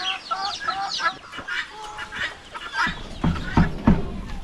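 Farm chickens, including hens kept for laying eggs, cluck in short, irregular bursts at close range with some soft rustling and no voices.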